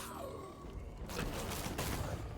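A spell-triggered explosion in the action RPG Moonbeast bursts out about a second in, a loud broadband roar that stays dense and crackling to the end, with a faint voice underneath.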